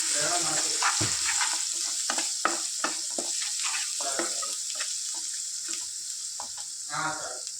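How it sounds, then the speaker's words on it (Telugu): Ginger garlic paste frying in a pan for a ridge gourd and egg curry, a steady close sizzle with repeated stirring scrapes throughout, no talking. "అల్లం వెల్లుల్లి పేస్ట్ వన్ స్పూన్ వేసి ఇలా ఫ్రై చేసుకొని"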